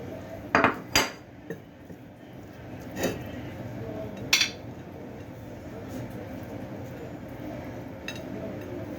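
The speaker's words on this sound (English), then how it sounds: "And then I will put the macaroni" Dry macaroni clattering into a metal pot while Egyptian koshari is prepared, a few sharp clinks early on and another near the middle, then a quieter kitchen background.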